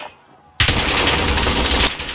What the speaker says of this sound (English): I'm getting shot through the wall.